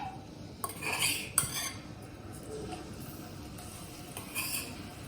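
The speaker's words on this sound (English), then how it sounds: "Now add paneer one by one," Clinks and light taps of utensils against a pan as paneer cubes are added one by one for shallow frying, quiet and close with a faint sizzle beneath.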